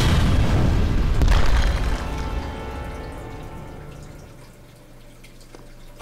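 A stick of dynamite explodes in the video game Serious Sam 3: one loud, deep boom that rolls off into a long, fading rumble with scattered debris, and no talking.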